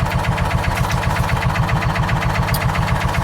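A John Deere Gator 4x2 utility vehicle engine idling with a hard-start and idle fault, a loud, close, steady pulsing chug with an even rapid rhythm throughout.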